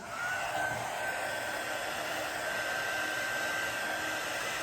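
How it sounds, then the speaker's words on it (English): A heat gun blows steadily for several seconds while resin is worked for a coaster and letter set, a constant broadband whoosh with a faint high whine running through it, close and unbroken, with no talking. "So I'm going to take my heat gun"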